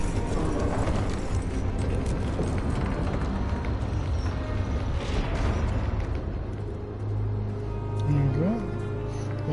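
Horse hooves clopping along at a trot in a Game of Thrones video game, steady and muffled beneath a dense rumbling score, with characters speaking over it.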